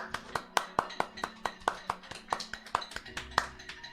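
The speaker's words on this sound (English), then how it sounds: "And we're now gonna do our clapping" Neighbours clapping out of a window, a steady run of sharp hand claps at a brisk, even rhythm, close and fairly loud, with a faint murmur of voices underneath.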